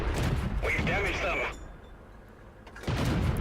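A Stuart I-IV light tank's gun firing in a tank game: heavy booming blasts with rumbling tails, one at the start and another near the end, amid continuous engine and battle noise, with a voice speaking over it.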